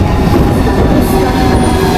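Train in Russia, a loud close rumbling roar of a rail car in motion, steady and dense with low-end vibration and no voices.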